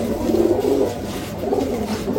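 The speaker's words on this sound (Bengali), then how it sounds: "এটা মাদি, আর এটা হচ্ছে মাদি পায়রা।" A female Rampuri pigeon coos close by, a low throaty rolling call that repeats in soft pulses with no other sound.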